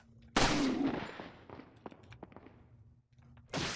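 Gunfire from the Resident Evil 4 video game: a sharp shot opens, followed by several quieter, scattered impacts and thuds, then another loud burst at the end, with faint talk underneath.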